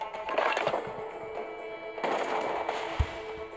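Ship cannon fire in the Assassin's Creed Pirates video game: dense, rumbling volleys of booming shots roll over a steady game background, with one sharp heavy thud standing out near the end.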